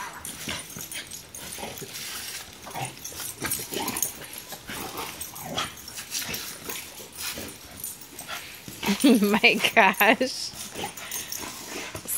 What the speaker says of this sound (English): Silly puppies.